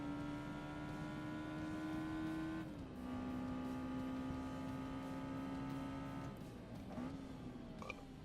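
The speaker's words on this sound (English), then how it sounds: "This car is so much better to drive around this track than the 250 GTO." A Lotus race car driving a track in Forza Motorsport, its engine a steady, close drone that dips in pitch at gear changes and then climbs again, with no talking.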